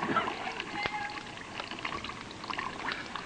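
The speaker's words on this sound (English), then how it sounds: "So, that was vacuum forming action there, sucking up that water." Water gurgles and glugs inside a 50-gallon oil drum as a vacuum forms and sucks it in, a continuous bubbling, sloshing noise with a sharp knock partway through.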